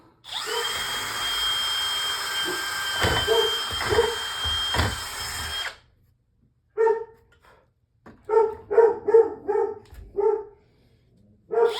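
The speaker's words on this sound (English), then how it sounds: "What are you barking at, girl?" A pet dog barks repeatedly at fairly close range after a loud power-tool drilling burst, the barks coming in uneven clusters with short pauses, as wind bangs things around outside a workshop during a moving-dolly repair.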